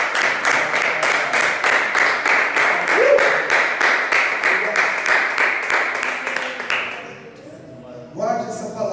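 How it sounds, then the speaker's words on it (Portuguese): A church congregation gives strong applause, with dense, loud clapping filling the room for several seconds before it thins out and fades into scattered claps and a few voices. "Você pode dar um forte aplauso."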